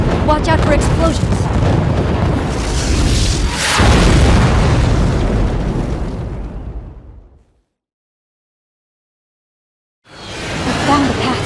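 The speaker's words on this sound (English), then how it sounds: "Watch out for explosions." Deep booming explosions in the shoot-'em-up video game Raiden V, a dense rumbling blast that swells and lingers before cutting to silence, then another burst returns.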